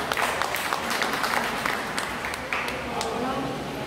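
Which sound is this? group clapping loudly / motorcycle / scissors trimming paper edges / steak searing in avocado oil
group clapping loudly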